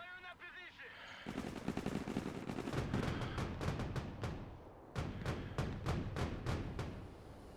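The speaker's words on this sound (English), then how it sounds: "So what I'm going to do now, it is to put some suppressive fire into it, into this building." Suppressive machine-gun fire pours into a building in the war video game Broken Arrow: a dense, loud, continuous rattle of rapid shots, then a series of separate, evenly spaced heavy bursts.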